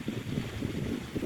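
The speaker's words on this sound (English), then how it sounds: "It's windy and I want the cards to blow." Wind blowing outdoors rumbles and buffets in low, continuous gusts at a steady moderate level, with no talking.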